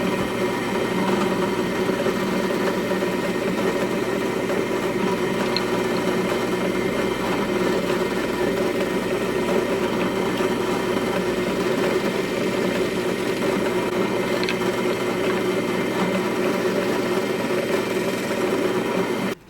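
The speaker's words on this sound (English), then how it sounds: "We're going to go ahead and drill these out" A power drill whirs steadily and loudly without pause, boring holes through knife handle scales, its motor droning at a constant pitch from start to finish.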